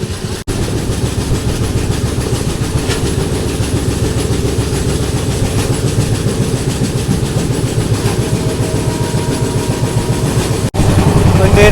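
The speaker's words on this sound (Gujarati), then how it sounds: "આપણી ટ્રેન ચાલી રહી છે એકસો અગિયાર કિલોમીટર પર" A train rolls steadily along the track at about 111 km/h, on the Hadmatiya–Kanalus line, with a continuous low rumble and rhythmic clatter of wheels, loud and close, lasting throughout.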